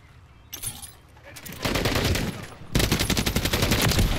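Rapid automatic rifle fire in the Modern Warfare video game: loud, close bursts, first short and sporadic, then two sustained streams of fast shots, with someone talking over them.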